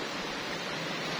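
River water flows in a steady, broadband rushing wash, loud and continuous throughout with no pauses or distinct splashes.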